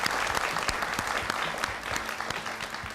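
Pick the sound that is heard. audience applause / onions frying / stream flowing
audience applause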